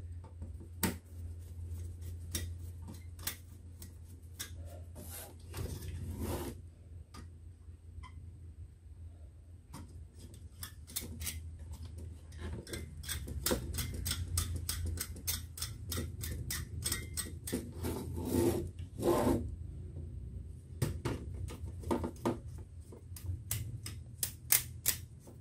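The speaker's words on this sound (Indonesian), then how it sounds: "saya akan baut dulu sedikit-sedikit" Motherboard screws are driven in by hand inside a computer case while fitting an LGA 775 Asus P5KPL AM SE board, a close, quiet series of irregular metallic clicks and ticks with short pauses between bursts.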